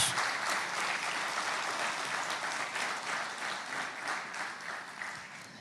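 A church congregation claps in a steady, dense burst of many hands at a moderate distance; the applause rolls on and slowly tapers off.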